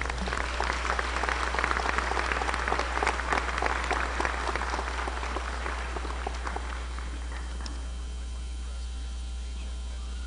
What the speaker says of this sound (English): Round of applause, please, for the sophomores